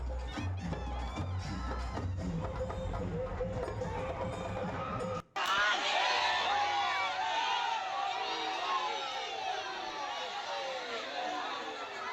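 A large crowd of devotees at the Jogani festival in Sangli, a dense murmur of many voices with cheers and whoops, carrying on continuously around the listener.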